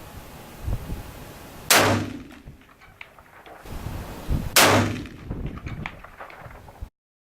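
Two loud rifle shots firing 180-grain Nosler Accubond bullets at an outdoor range, each a sharp close crack followed by a rolling echo, about three seconds apart over steady wind noise.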